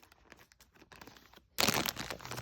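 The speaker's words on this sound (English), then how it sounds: "to cut the bag" A plastic bag is cut open, beginning with faint crinkles and then a sudden loud crackling rip near the end, heard close up.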